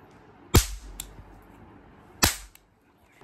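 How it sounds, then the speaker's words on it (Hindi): Two sharp firecracker bangs set off by children, about two seconds apart, each with a short crackling tail, then quiet. "ये बच्चे जो है पटाखे फोड़ने में लगे हुए हैं"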